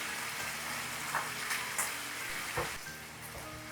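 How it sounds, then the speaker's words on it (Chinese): Steady, close sizzling of slices frying in a hot pan, a dense crackle with a few brief pops and no voices. "煎到萝卜两面金黄，倒入调好的综合酱汁"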